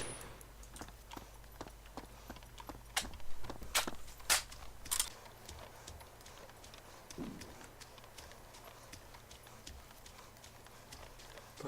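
Distant gunfire in the DayZ video game: a scattering of sharp, faint cracks and pops spread over several seconds, a few louder shots clustered early on, with no talk over them.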